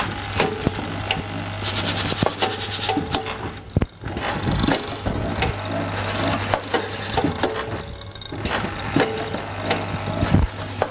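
The Hefestus cone rolling robot runs its twisting fingers with continuous mechanical rubbing and rasping, a low steady hum, and scattered clicks and knocks throughout.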